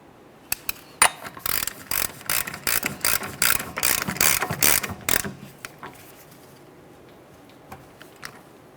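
Rapid ratchet clicks from a hand tool spinning an axle nut onto the rear hub of a 2011-2020 Toyota Sienna, dense bursts for about five seconds, then a few scattered metallic clicks as it tapers off.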